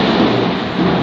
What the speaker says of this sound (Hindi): बिजली भाई साहब बिजली कड़क रही है,